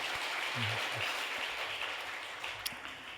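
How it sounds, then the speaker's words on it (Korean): A congregation at a Korean church service claps in steady, dense applause, with a couple of murmured voices underneath. "수고 많이 했는데 일어나면 우리 박수로 격려하겠습니다"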